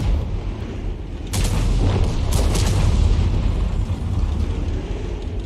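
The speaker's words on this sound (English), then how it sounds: "It's a difficult shot, trying to get the shell underneath the aircraft carrier, but into the enemy." A T92 HMC self-propelled artillery gun in a video game fires a shell with a heavy booming blast after mechanical clicking, followed by a long rumbling echo.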